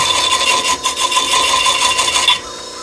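A stone block being ground with a grinding wheel as it is shaped, a steady loud rasping grind that continues for a couple of seconds and then drops away.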